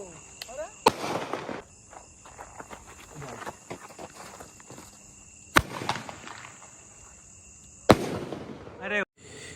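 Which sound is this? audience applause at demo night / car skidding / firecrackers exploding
firecrackers exploding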